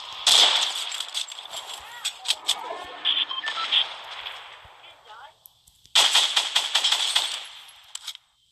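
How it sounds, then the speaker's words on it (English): A minigun firing in a mobile shooter game on a Galaxy Note 9: rapid sharp bursts of continuous gunfire, close and loud, in two long runs separated by a brief quiet gap. "Like, it's a minigun."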